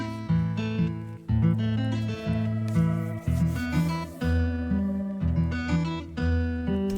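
A pitched-down Spanish guitar loop made in FL Studio with cassette and vinyl effects plays plucked melodic phrases over low bass notes. It sounds warm and slightly muffled, steady and alone throughout.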